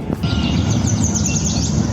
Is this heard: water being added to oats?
no